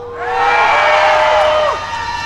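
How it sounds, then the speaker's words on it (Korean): A festival crowd at the 55th Yeongdong Nangye Korean traditional music festival cheers and shouts together, a loud swelling roar with whoops and children's high voices that rises, holds, then fades. "우리 영동 구민 여러분들 함성 소리 한번 들어볼까요?"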